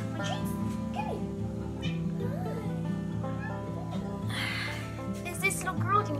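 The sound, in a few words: cat meowing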